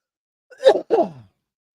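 A single sneeze, a sharp intake followed by a short burst, close and isolated against silence.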